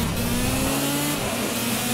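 A racing kart engine in the driving game Project Cars buzzes in a steady, close, loud drone with a slight shift in pitch partway through, and no voices over it.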